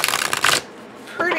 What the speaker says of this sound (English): good at thicker riffle shuffling